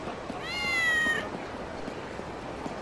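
A single drawn-out cat meow from the PSP game Kurohyou 2: Ryu ga Gotoku, rising then trailing off over about a second, heard clearly above a steady low background hiss with no talking.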